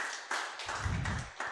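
An audience at a legal technology talk applauds a speaker, giving a few sharp, close hand claps in an uneven rhythm.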